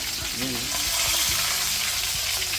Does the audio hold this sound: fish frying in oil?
yes